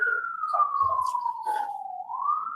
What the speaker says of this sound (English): The siren.